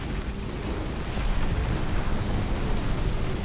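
A continuous rumbling roar of incendiary strike explosions in the real-time strategy game Dustfront, loud and dense, swelling slightly partway through with faint sharp pops scattered on top.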